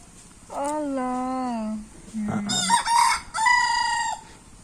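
A farmyard rooster crows in a village setting: a few rising and falling calls close by, with short pauses between phrases and faint background noise.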